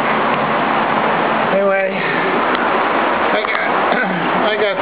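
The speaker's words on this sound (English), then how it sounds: "Just like a monsoon came out of nowhere." Sudden monsoon downpour in jungle heat, a steady heavy wash of rain that fills the whole clip at close range, with a person speaking briefly over it.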